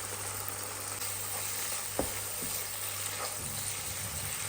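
Sliced chillies and spice paste sizzle in hot oil for a prawn curry. The sizzle is continuous and close, with a few sharp clicks and stirring knocks, and no one speaks.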